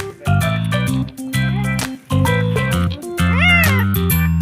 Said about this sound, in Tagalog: Mga pusa oh.